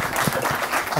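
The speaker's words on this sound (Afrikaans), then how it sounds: "Kom ons geef haar lekker harde klap" Clapping from a studio audience on an Afrikaans cooking show, a dense steady patter of many hands filling a brief moment at close range.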